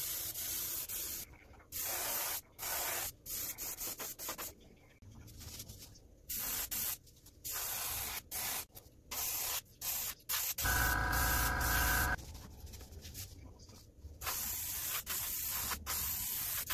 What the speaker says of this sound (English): Was able to go ahead and spray the color down